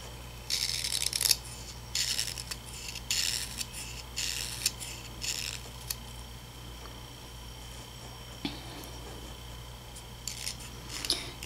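Oboe reed cane being scraped with a blade, a series of short, bright rasping strokes repeated in bursts with brief pauses, close and fairly quiet.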